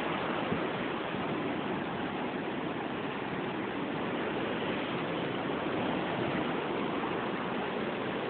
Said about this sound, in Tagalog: Mas malakas dito yung alon.